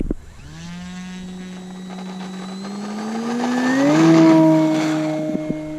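Carbon Z Cessna 150 RC plane's electric motor spooling up to full throttle for takeoff, a steady rising whine with harmonics that climbs in pitch and grows louder over several seconds, then levels off near and alone.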